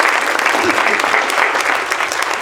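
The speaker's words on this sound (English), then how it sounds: "So let's give them a big round of applause." Brief burst of dense, loud audience applause at a disability history symposium, continuous clapping from a full room with a voice faintly beneath.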